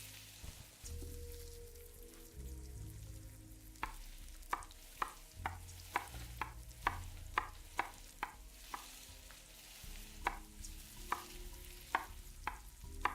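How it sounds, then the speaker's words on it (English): Carrots being chopped on a kitchen board in the video game MiSide, a run of sharp, evenly spaced knife taps that speed up into a quick rhythm over a low, steady game background hum. "Got better at chopping carrots."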